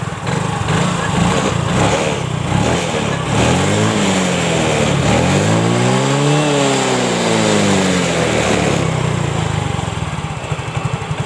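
A Yamaha Mio Soul GT scooter engine with a sputtering fault under throttle revs loudly up and back down close by, a buzzy rising and falling whine over a steady rattling idle.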